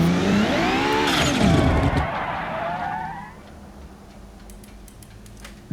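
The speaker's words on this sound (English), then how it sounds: "Car just spinning dirt." In BeamNG Drive, a V8-swapped BMW E30 spins its wheels in dirt, engine whining and skidding loudly for a few seconds before fading to a quiet ticking.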